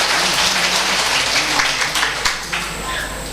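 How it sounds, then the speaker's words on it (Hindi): An audience at a Shrimad Bhagwat Katha gathering at Rishishwar Mandir in Lohaghat claps loudly in welcome, a dense, continuous patter of hands lasting a few seconds with a voice faintly underneath. "उनके लिए भी जोरदार तालियों से स्वागत करेंगे।"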